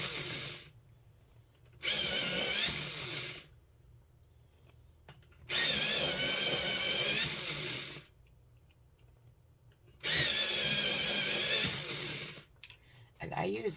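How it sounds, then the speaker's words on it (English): A Jarlink electric pencil sharpener grinds colored pencils in three separate whirring bursts of one to two seconds each, with quiet gaps between them, close and fairly soft. "And I use the Jarlink electric sharpener."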